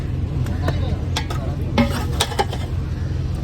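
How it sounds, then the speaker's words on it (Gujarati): A vaghar tempering of spices sizzles in hot oil aboard a Porbandar fishing boat, a continuous close hiss with scattered crackles and clinks, backed by a low engine rumble. "બસ વઘાર નાખી દો, વઘાર ભાઈ લઈએ."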